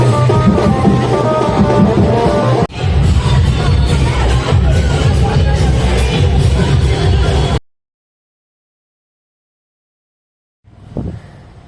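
A large crowd at the Reay Road Aai Bhavani arrival procession in Mumbai makes a loud, dense roar of voices and commotion for about seven seconds, then cuts to silence before a short burst of noise returns.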